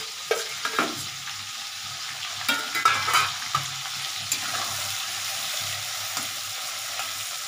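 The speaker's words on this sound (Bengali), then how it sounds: "একটু হালকা ভেজে নিচ্ছি" Prawns lightly frying in a pan, a soft even sizzle marked by several close clicks and scrapes as the pieces are turned and stirred.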